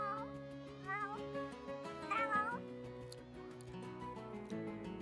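Cats in The Sims 3 meow repeatedly in rising and falling calls over steady background music, close and clear, with no talk.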